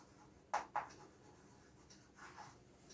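Two quick pen strokes sound during an accounting lesson, then faint scratchy writing follows against a quiet room background, with no talk.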